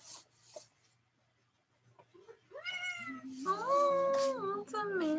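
A pet cat meows repeatedly and insistently at close range, with long drawn-out rising and falling calls, while a person speaks softly to it between the cries.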